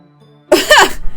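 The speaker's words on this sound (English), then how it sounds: "Had his head fully in my tote bag and was just sneezing in it" A single sharp, muffled sneeze from a pet with its head buried inside a fabric tote bag, close and loud, after a quiet moment.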